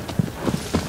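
Horse hooves clip-clop in the video game Shadow of the Colossus, a few uneven muffled thuds over a soft steady background.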